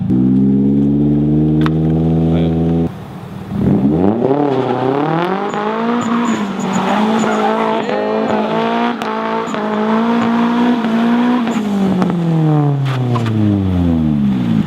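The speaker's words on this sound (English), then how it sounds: "You burned way more rubber than I was hoping you would" Car doing donuts with the clutch dropped, engine revving hard and steady with rising and falling pitch while rubber burns, a continuous loud roar lasting throughout after a brief idle start.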